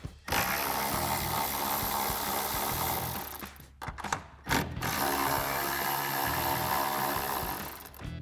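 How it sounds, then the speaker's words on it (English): A ratchet wrench with a 10mm socket spins off the tail light nuts on a 2024-2026 Mustang, giving a fast, continuous clicking whir up close, broken by a short pause before the ratcheting resumes. "Remove those with the 10mm socket as well."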